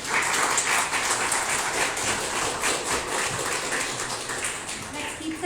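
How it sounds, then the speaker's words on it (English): An audience applauds at the launch of a Goa tourism campaign, steady dense clapping throughout that fades slightly toward the end, heard from within the crowd. "Let's keep the claps going."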